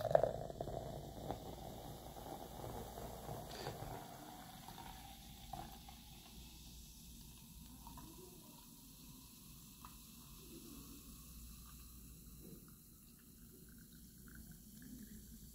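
GFuel Sour Chug Rug energy drink, blue raspberry flavour, is poured into a cup: a fizzy splashing pour that fades into a soft, faint crackle of settling carbonation, heard up close and alone.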